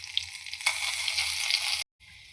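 Mustard seeds and curry leaves sizzle and crackle in hot oil as a tempering is made for a carrot salad, a steady bright hiss that swells at about 0.7 seconds, then cuts out abruptly and resumes faintly at the end.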